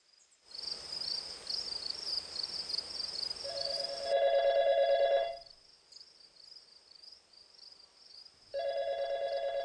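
Telephone ringing in an indoor scene, with tonal rings starting, pausing and resuming, alongside a high steady chirping like crickets.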